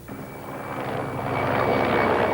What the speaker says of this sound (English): In the air with the latest Soviet-built helicopter gunships